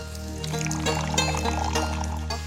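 Water poured into a cooking pot of oil and onions while preparing a Sylheti beef curry with pumpkin, a steady trickling pour lasting a couple of seconds over low kitchen hum.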